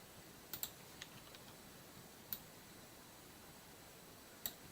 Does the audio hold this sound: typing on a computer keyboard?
yes